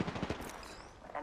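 Quick rapid bursts of gunfire from an Apex Legends match, several shots in fast succession within a second, fairly faint and brief, with a voice partly over them.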